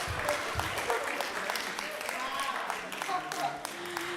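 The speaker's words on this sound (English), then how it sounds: "That gets a round of applause." Audience applause at a live-streamed Temple Sinai Houston gathering, a steady wash of many hands clapping for about four seconds, with occasional voices and murmurs mixed in beneath it.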